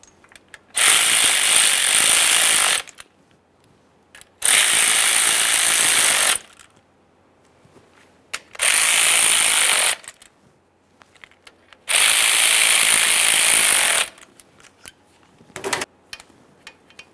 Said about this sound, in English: go ahead and snug up all 4 bolts and then torque them to 89 inch-pounds